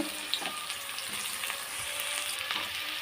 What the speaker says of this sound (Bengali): বন্ধুরা বেরেস্তাটা আমি ঘি দিয়ে ভেজে নিলাম